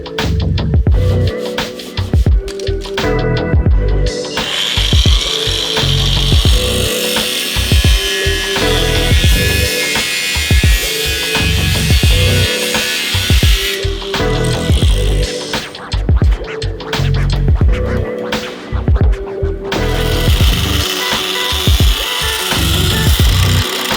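Grinder cutting through Wall Control pegboard in a workshop, a loud continuous abrasive whine with harsh grinding, two short pauses where the tool drops out, close and without talk.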